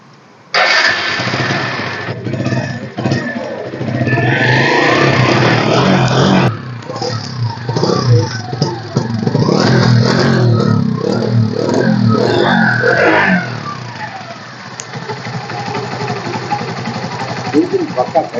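A second-hand 2012 motorcycle with self-start fires up and keeps running, its engine noise loud and steady through the whole stretch and rising and falling in bursts, while someone talks nearby.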